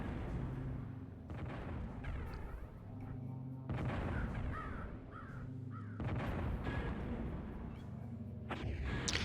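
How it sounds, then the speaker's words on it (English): Enemy units firing in the DOS strategy game Spellcross, a run of sharp synthetic shots and booming impacts over a droning game soundtrack, with repeated bursts throughout. "there are also these guys that are shooting at me"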